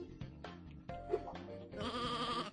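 Sheep bleat in the Sheep Raider video game, a couple of short wavering calls over busy game music and effects, fairly close and clear.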